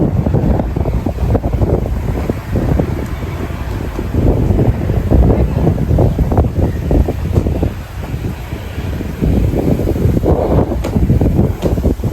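Strong wind roars and buffets the microphone steadily throughout atop a lorry, with heavy low rumble and no talking.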